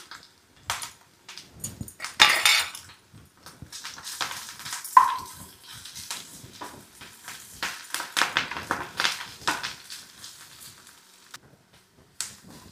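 Tempering with curry leaves and pounded masala paste frying in cold-pressed oil in a pan, for ridge gourd and moong dal: close, intermittent sizzling and crackling bursts with stirring scrapes, no talking.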